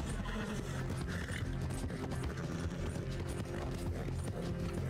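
A horse's hooves clip-clop steadily in Red Dead Redemption 2, a continuous rhythmic trotting over a dense layer of game ambience and music.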